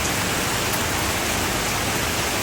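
Heavy, steady downpour during a cyclone, a dense, unbroken hiss of rain falling close by and loud, with no voices.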